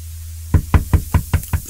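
Six firm, evenly spaced knocks land on a door, loud and close, with no voices.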